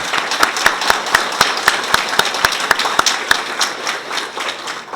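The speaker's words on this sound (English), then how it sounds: "Please join me in a round of applause for all of these people." Audience applause at a regional art show awards ceremony: a sustained round of clapping with distinct individual claps standing out, steady for five seconds before thinning slightly at the end.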